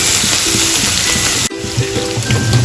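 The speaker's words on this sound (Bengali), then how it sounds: "একটু লাল লাল করে ভাজা হবে পেঁয়াজটা।" Onion frying in hot oil with garam masala, a loud, dense, steady sizzle filling the whole stretch, with a brief dip midway.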